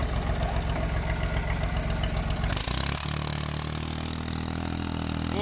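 An old Fiat 450 tractor engine idles with a steady low mechanical chug and rattle, close and loud, shifting to a smoother, deeper drone midway through.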